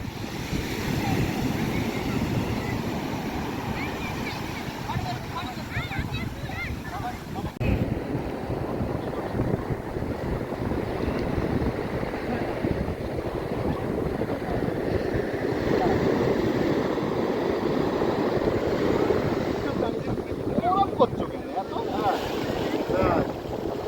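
Wind buffets the microphone and waves slap during a boat ride on blue open water, keeping up a constant rough rush for the whole stretch while people talk underneath.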